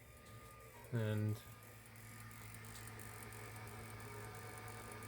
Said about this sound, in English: printer just chuntering away.